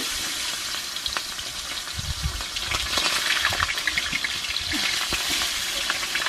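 Fish frying in a pan, a loud, continuous sizzle and crackle of hot oil that stays steady throughout, with no voices.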